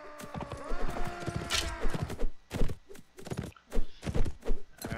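Horse hooves clattering in the medieval combat game Mount & Blade: Warband, a rapid run of sharp clip-clop thuds with a whinny early on, amid busy battle noise.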